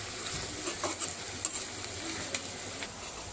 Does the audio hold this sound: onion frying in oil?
yes